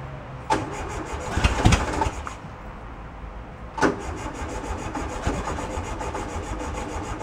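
An old VW bus that sat in a field for 31 years is cranked, two rasping, grinding starter bursts a few seconds apart over a steady background hum, close and fairly loud, with no talking.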